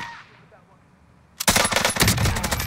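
Loud rapid automatic gunfire from the video game Warzone, set in Verdansk, bursts in suddenly after a quiet start and continues as a dense, close stream of shots.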